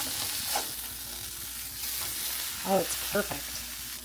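Food frying in a pan greased with cooking spray instead of butter, a steady sizzle running throughout with a few stirring or scraping bumps near the end, and a brief spoken remark over it.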